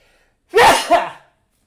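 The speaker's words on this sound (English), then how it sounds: "I'm going to sneeze." A single close, sharp sneeze bursts out of near silence, a quick two-part explosive burst of breath lasting under a second.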